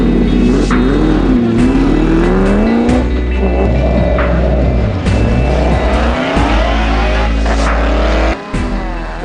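4x4 off-road race cars in a championship event drive up a main road into race position, loud engines revving and accelerating close by, gears changing, with occasional tyre squeal and cars passing in turn.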